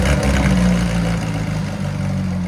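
A 2019 Porsche 911 GT3 RS with a mid-muffler delete and custom exhaust idles with its valves closed, a steady, loud, deep engine burble holding even throughout with no revving.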